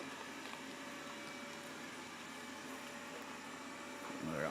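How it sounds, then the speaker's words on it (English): Vacuum cleaner running steadily nearby, a continuous broadband whir holding an even level throughout with a slight swell near the end, no clear talk over it. "All I can hear is that fucking vacuum cleaner"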